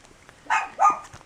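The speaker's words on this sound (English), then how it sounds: "I have a miniature dachshund, and she's very cute, and she is loud." A miniature dachshund gives two quick, sharp barks close by. The barks sound against a quiet background.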